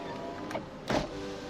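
Power window motor in a Hyundai Sonata The Brilliant LPI sedan, a steady close electric whir running throughout with a couple of brief louder bumps as the glass moves.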